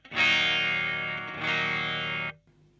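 An electric guitar played through a Wampler Sovereign distortion pedal with the gain turned down: two sustained, fuzzy strummed chords ring loud and close, the second struck about halfway through, then cut off abruptly.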